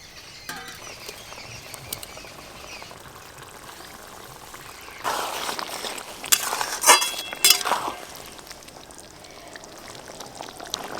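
Water poured into a pan of fried raw green tomatoes for a village-style small chenga fish curry: a quiet simmer, then a few seconds of splashy pouring with light clinks, fading back to low bubbling.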